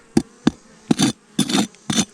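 Honey bees buzz around a beehive, passing close in a series of short, loud bursts of droning with brief silences between them.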